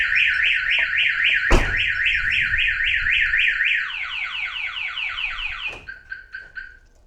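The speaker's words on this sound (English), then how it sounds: "unlocking works and our alarm works too" A Viper car alarm sounds on an EK Civic hatchback: a rapid warbling siren cycles steadily, then shifts to a descending swept tone and a series of short beeps before cutting off, loud and close.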